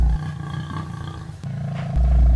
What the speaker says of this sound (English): A lion, the most dangerous enemy of the young cubs.